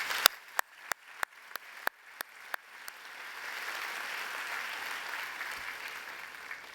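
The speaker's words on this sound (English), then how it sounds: "Let's give them a round of applause." A commencement audience in a large hall applauds after an honoree is introduced. A few loud, evenly spaced claps from a nearby pair of hands ring out first, then broad crowd clapping swells and holds in the background.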